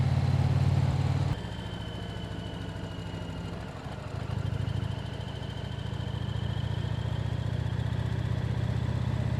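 A motorcycle engine hums steadily while riding around a reservoir in Colorado, with a shift in tone after a moment and a smooth drone throughout, no talk.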